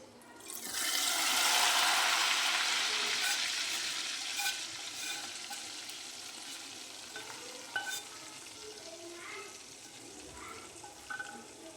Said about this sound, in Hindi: अब इसमें तड़का डाल देंगे।